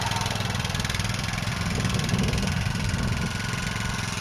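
Remote-controlled slope mower working a steep hillside, its engine running steadily with the blades disengaged; a continuous close, loud mid-pitched engine drone with a low rumble.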